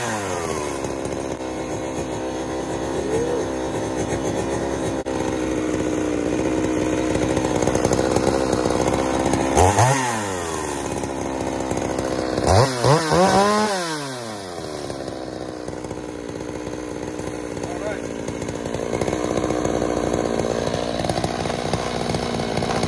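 A newly unboxed chainsaw runs after starting with the choke off, idling loudly and close, with two sharp revs rising and falling in the middle and no talking.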